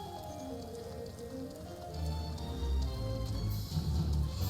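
Rain in a video game, a dense, steady patter of drops on surfaces that grows heavier and louder partway through, close and continuous with no voices over it.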